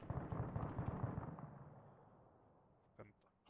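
Gunfire in a military video game: a rapid run of close, loud shots opens the clip and trails off into echoing decay. A couple of softer distant reports follow near the end.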